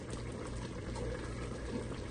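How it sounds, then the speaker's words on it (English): Spaghetti bubbling hard in a Ninja Speedi cooker, a continuous busy rolling boil with dense popping and gurgling at moderate level, with no talking. "Got serious boiling going on in here."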